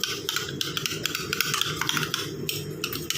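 Homemade aloe vera face cream being stirred in a small bowl, giving a steady run of soft scraping and tapping strokes close by, with no voices.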